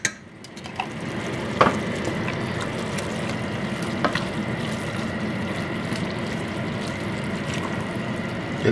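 Coconut milk poured over vegetables in a hot pan gives a steady, close sizzle and bubbling, with a few sharp clinks of utensils against the pan and no voices.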